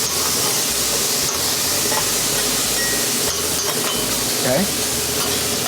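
Hash browns fry on a hot flat top griddle in a steady, loud, broadband sizzle and hiss with faint scraping, and a voice speaks briefly over it.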